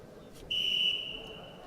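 A referee's whistle at a freestyle wrestling championship, one short sharp blast lasting under half a second over quiet hall background noise.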